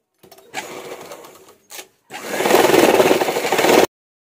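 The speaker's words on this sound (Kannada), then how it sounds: "ನಾನು ಎಡ್ಜನ್ನ ಸ್ಟಿಚ್ ಮಾಡ್ಕೊತೀನಿ ಲೈನಿಂಗ್ ಬಟ್ಟೆಗೆ." A sewing machine stitches along the edge of a blouse lining, running in short bursts at first and then in one steady, close whirring run of about two seconds, with no talk.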